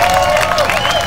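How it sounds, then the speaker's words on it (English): Outdoor festival crowd applauding and cheering in the rain at a lakeside event, a loud, dense wash of clapping with a sustained tone running underneath throughout the short burst. "applause to Nicole Jamrose"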